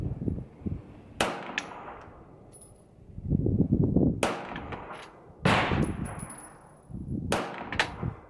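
CZ Shadow 2 pistol shots ringing off steel targets at an outdoor range, several sharp cracks spaced a second or two apart, each followed by a metallic clang and brief ringing decay.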